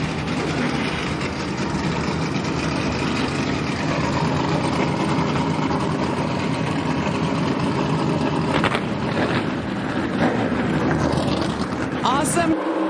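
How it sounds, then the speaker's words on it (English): NASCAR Truck Series race trucks at Atlanta starting up and idling together, a loud dense rumble of many engines throughout, with a voice speaking over it. "Drivers, start your engine!"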